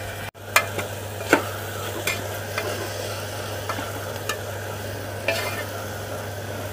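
Tomatoes softening in a pan for a fenugreek rice bath, sizzling steadily under a constant low hum while a spoon scrapes and stirs in a handful of sharp, separate strokes spread through the clip.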